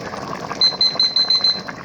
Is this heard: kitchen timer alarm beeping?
yes